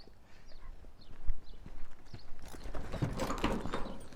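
Donkey hooves clip-clop on the ground in an uneven walking rhythm, close by, growing busier and louder toward the end with rustling movement.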